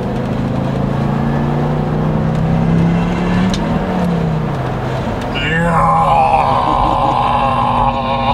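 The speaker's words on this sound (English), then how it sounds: "Guys, the sound. 5 cylinder." Turbocharged five-cylinder engine of a Volvo S60R pulling hard under acceleration, a steady loud drone from inside the car that climbs in pitch near the end as the revs rise.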